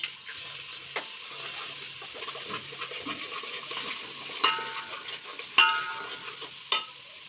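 Ginger-garlic paste frying in a pan, heard as a soft, close sizzle with a few sharp metallic clinks and scrapes of a spoon against the pan, and no talking.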